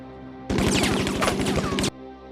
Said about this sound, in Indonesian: Jax yang tertembak mengenai rompi anti pelurunya.